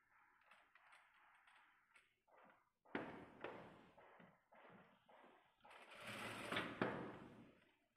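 Sewing machine stitching a side slant pocket, running in short bursts that stop and start, then a longer louder run of rapid stitching near the end, heard close up.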